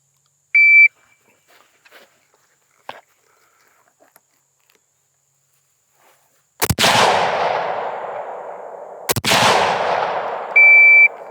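HK PSG1 sniper rifle fired twice on a SWAT sniper challenge range, two sharp loud cracks a few seconds apart with long decaying echoes, bracketed by high electronic shot-timer beeps at the start and end amid near silence.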